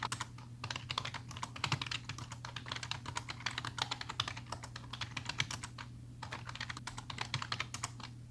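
Quick, uneven keystrokes tap out list entries on a computer keyboard in an Excel session, a dense run of light clicks with short pauses over a faint steady hum.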